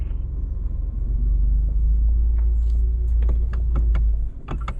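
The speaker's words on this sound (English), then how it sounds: "come down Goodyear Hill at 4 miles per hour" A Ford Bronco creeps down Goodyear Hill at 4 miles per hour on trail control, its engine a deep steady rumble up close until the rumble drops away near the end, followed by scattered clicks and knocks.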